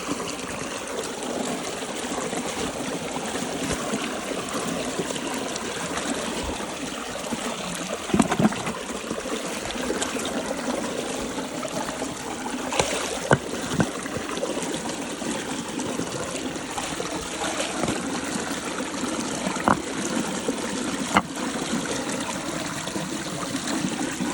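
Continuous irrigation water from a pump trickling and gurgling along a field channel to maize, steady throughout with occasional small splashes, nearby and moderately loud.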